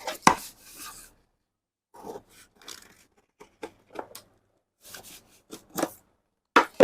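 Scissors cutting cloth for the back neckline of a size 42 garment: a series of short, close snipping and rustling strokes in uneven bursts, with pauses between cuts.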